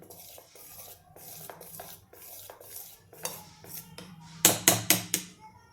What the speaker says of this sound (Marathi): आता हे जे आहे हे आपण मिक्स करून घेतो आहे